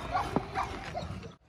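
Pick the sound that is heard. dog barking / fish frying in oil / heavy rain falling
dog barking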